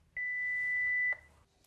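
A personal alarm unit gives one steady electronic beep lasting about a second as it calls through to a control centre, clear against a quiet room.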